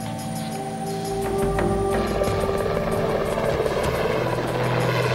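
An aircraft engine drones loud and steady over a remote Greenland landscape, with a low rumble and continuous rotor-like throb that stays close and unbroken throughout.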